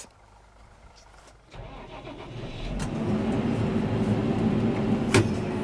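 A tractor engine starts up and settles into a steady, rising rumble that grows louder and holds, close by, with no talking.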